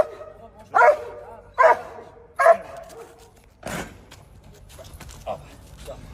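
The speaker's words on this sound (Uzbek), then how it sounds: "Belgiya ovcharkasiga mansub Enzo laqabli xizmat itimiz." Enzo, a Belgian shepherd service dog, lets out several loud, close barks at an even spacing, followed by a couple of fainter yips and a brief voice in the background.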